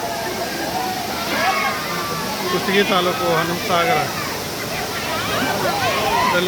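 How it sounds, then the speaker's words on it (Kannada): Kapila Tirtha waterfall near Hanumasagar in Kushtagi taluk pours in a constant rushing wash, while someone talks continuously over the steady water noise. "ಈ ಟೈಮ್ನಲ್ಲಿ ಕೂಡ ನೀರು ಭಾಳ ಬೀಳ್ತಾ ಇದೆ"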